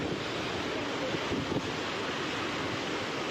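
Floodwater rushing and overflowing during heavy rain in Kadapa, a dense continuous roar with gusty wind buffeting the microphone, steady and close, with no speech.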